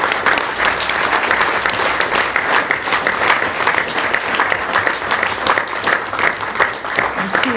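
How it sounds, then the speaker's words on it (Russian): An audience applauds at the close of a seminar in Golitsyno, steady and loud, many hands clapping together without letup. "Поэтому я хочу, чтобы мы им всем аплодировали"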